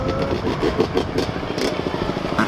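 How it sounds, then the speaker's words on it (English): A dirt bike engine idles and blips on a South Philadelphia city street, a rough, rattling mid-loud rumble with uneven pulsing, and faint voices are mixed in. "DIRTBIKES noise coming from you?"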